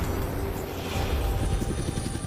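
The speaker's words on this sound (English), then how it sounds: "Children's Mercy sent a helicopter to get Bree." Helicopter sent by a children's hospital, heard as a steady loud rotor drone with low-frequency chop that continues throughout.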